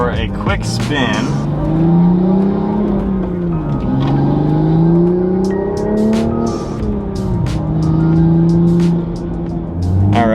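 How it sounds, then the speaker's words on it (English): A brand new Toyota Supra on fresh custom wheels and wide tires makes a few short pulls, its engine note climbing and dropping in repeated rising revs, loud and close from start to finish. "just a few little pulls, driving back and forth in the car"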